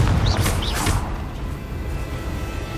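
A Confringo fire spell blasts out in Hogwarts Legacy, a bright whooshing burst with a crackling tail in the first second, then a steady wash of low battle rumble and ambience.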